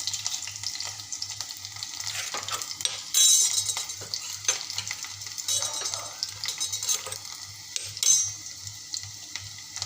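Onions sautéing in oil in a pan give off a continuous close sizzle, punctuated by repeated clinks and scrapes of a spatula stirring against the metal pan.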